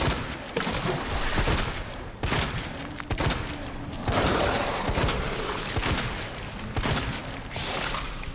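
Shotgun blasts boom again and again in Resident Evil 2 Remake, loud and dense, fired in quick succession with brief gaps as shells are spent on a single enemy.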